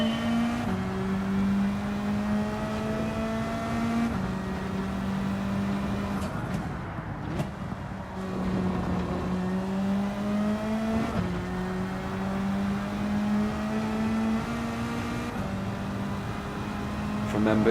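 A race car engine in Gran Turismo 7 revs and shifts through gears in repeated rising sweeps, while a person talks over the engine noise at moderate volume.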